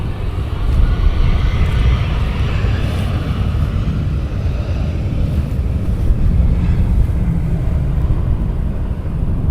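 An airliner landing at Amsterdam Schiphol Airport, a loud steady low roar of jet engines with wind buffeting across the microphone, sustained and close, with no talking.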